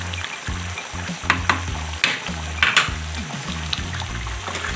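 Spices and onion go into sizzling chicken karahi in a pan, a loud, steady frying hiss broken by several sharp crackling bursts.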